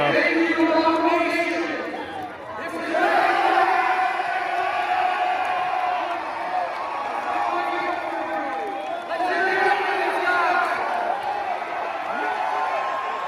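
A capacity crowd of more than 12,000 at a Boise State basketball game roars and cheers on its feet, a loud, sustained wall of whoops and applause with a commentator talking over it.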